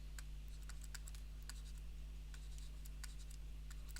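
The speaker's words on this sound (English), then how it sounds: "I'm going to write this" Pen scratching on paper while a physics solution is written out, a series of short sharp strokes in irregular bursts over a low steady hum, faint and close.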